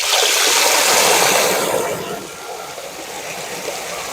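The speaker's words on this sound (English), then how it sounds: "So let's just fill this bucket up first." Well water rushing from a pressurised pipe into a bucket, a loud steady broadband gush close by that eases slightly partway through, with a low engine-like hum beneath.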